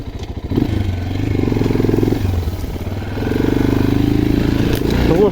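A Geon X-Road Light 250 motorcycle rides off-road across a muddy field. Its single engine drones loud and near, dipping briefly and then pulling again with a rough, labouring tone.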